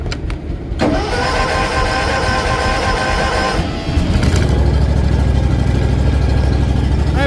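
A John Deere X300 lawn tractor engine cranks and catches on a cold start with choke, then settles into a loud, steady, throbbing idle heard up close with no talking.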